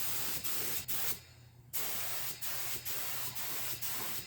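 Undercoat paint hisses from a spray can onto a restored Sears Craftsman front-tine roto-tiller with a Briggs 8hp engine, in a string of short, close bursts with one brief pause.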